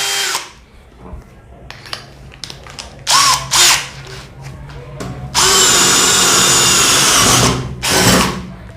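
Brushless cordless drill being worked on wood: several short trigger bursts of whining motor, then a longer sustained high-pitched run lasting about two seconds, loud and close, with a few clicks and handling noises between.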